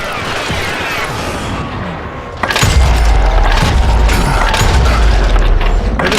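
Gunfire in the western shooter game Ranslinger, with a heavy boom near the midpoint followed by loud, dense bursts of shots and crashing impacts that stay intense to the end.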